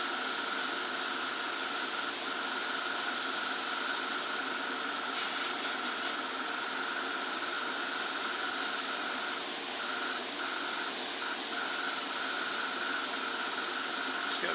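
An airbrush hisses steadily as light coats of paint are sprayed onto a 1:35 scale figure for a Tamiya Russian T-55A tank model, a continuous close airy spray with short breaks.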